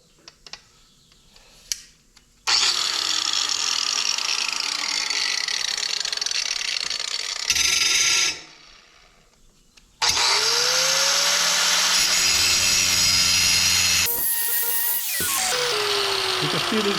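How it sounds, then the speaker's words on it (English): A grinding wheel sharpening a lawn mower blade: loud, harsh metal grinding in two long sustained passes, interrupted by a short gap with a quieter burst, plus faint handling sounds at the start. "Grinding wheel."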